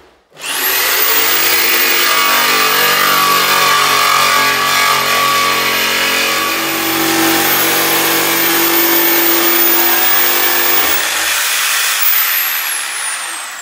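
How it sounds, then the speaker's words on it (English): A brand new jigsaw fitted with a fresh blade cuts through a piece of timber, a loud, steady motorized buzz running continuously for about ten seconds before abruptly stopping. "I've got a brand new jigsaw here which was bought for me for my birthday"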